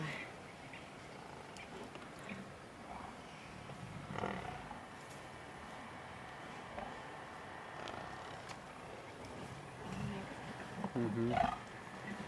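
Lionesses on a buffalo kill give low rumbling growls and short roars over steady outdoor noise, faint and at some distance, with a person talking now and then.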